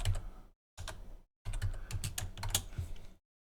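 Typing on a computer keyboard while writing code, dense bursts of clicking keystrokes in three runs separated by short pauses, close and clear with no voices.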